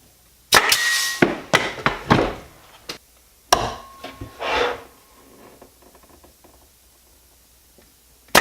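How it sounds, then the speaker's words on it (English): Glued wooden shelf parts for an airplane-shaped shelf being clamped, with a series of sharp close wooden knocks and clacks in two bursts, then quiet. "I'm going to go ahead and clamp it"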